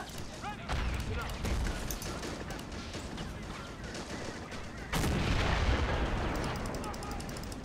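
A 155 mm gun on a motor carriage firing in the Men of War video game amid dense battle noise, with heavy booming blasts and steady gunfire rattling throughout and a big loud report near the middle.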